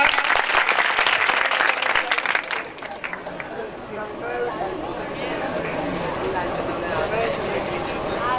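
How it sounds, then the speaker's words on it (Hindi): Loud, dense applause from an audience in a Bihar classroom or seminar lasts about two and a half seconds, then gives way to murmuring crowd chatter and voices. "जोरदार ताली एक बार"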